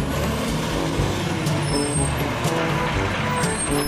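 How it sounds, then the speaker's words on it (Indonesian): A garbage truck close by, a steady heavy engine rumble filling the whole stretch with a hiss of air brakes and a high whine on top, loud and continuous with no talk. "Ini namanya truk sampah."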